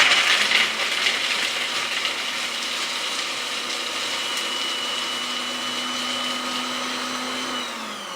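A food processor blitzes basil leaves with macadamia nuts for a roasted pumpkin and basil dip, giving a loud steady motor whir with chopping rattle that starts abruptly and holds for about seven seconds before winding down.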